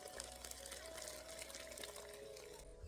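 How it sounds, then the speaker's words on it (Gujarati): Water from boiling small potatoes is drained off in a rush, a steady splashing gush over a low background rumble, continuing evenly until it cuts off near the end. "બટાકા બાફવા મિત્રો આપણે જે પાણી મૂક્યું હતું આપણે એને કાઢી લઈશું."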